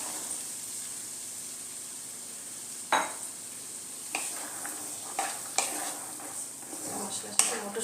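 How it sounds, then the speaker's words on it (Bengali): Green peas tipped into a pan of well-fried spice masala for methi matar malai, giving a few scattered clinks and stirring scrapes over a soft, steady sizzle, close by with no voices. "এর মধ্যে এবারে আমি এই মটরশুঁটিগুলো দিয়ে দেবো।"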